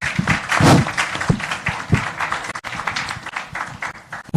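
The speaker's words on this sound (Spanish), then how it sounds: "Recibamos pues con un fuerte aplauso al doctor César San Martín Castro." Applause from an audience at a formal Spanish-language legal plenary session welcoming a judge, dense and fairly loud clapping throughout with a brief burst of voices near the start.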